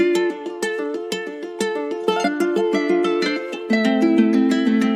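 Bright plucked guitar playing a quick melody with crisp attacks and a Spanish flavor, loud and close with no other sounds.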